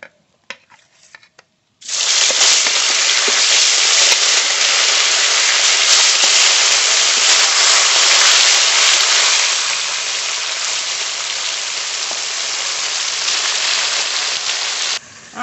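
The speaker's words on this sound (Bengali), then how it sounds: "আরও মাছ কড়াইতে দিয়ে দেব।" Pieces of a large glass catfish are dropped into hot oil in a kadai, setting off a sudden loud, dense sizzle that carries on steadily and slightly eases partway through.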